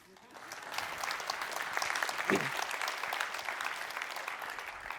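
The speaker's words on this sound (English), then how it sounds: "You can clap." An audience claps at a Cloud Next '18 conference talk on HashiCorp Vault and Kubernetes. The dense, steady applause swells and then holds for several seconds, filling the room.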